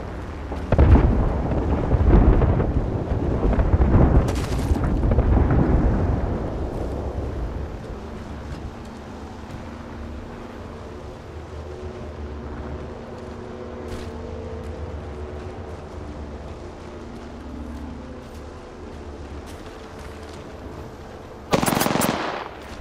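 Heavy explosions and rattling gunfire from an air strike in the battle game Apex Legends, loud and dense at the start, then easing to a lower rumble with steady crackle and a sharp burst near the end.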